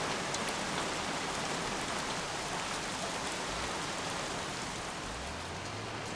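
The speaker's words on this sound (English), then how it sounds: "Damn rain. Soaking wet." Steady, heavy rain pours down, a dense unbroken hiss close by, with a low rumble creeping in near the end.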